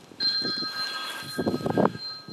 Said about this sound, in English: Burner's ringing off the hook as well.